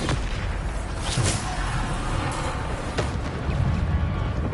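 Bombarda explosion spells fired during Hogwarts Legacy combat, a steady barrage of booming blasts and gunfire-like bursts over continuous game noise.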